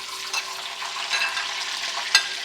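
Chicken pieces for pickle fry in oil with a steady close sizzle, broken by a few short scraping stirs, one sharper clink near the end.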